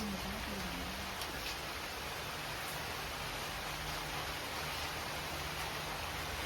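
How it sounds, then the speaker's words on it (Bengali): Heavy rain pours down outdoors in a dense, unbroken roar that fills the scene, with a faint voice or hum low beneath it. "জম জম করে বৃষ্টি পড়তে শুরু করলো।"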